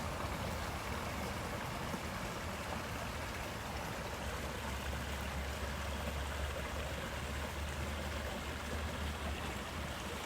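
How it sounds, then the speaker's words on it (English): Water running steadily in a stream at a nature preserve, a soft, continuous broadband rush with no pauses, faint and ambient, and no voices over it. "if you listen real close, you can hear the water running"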